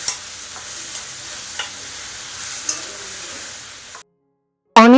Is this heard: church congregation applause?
no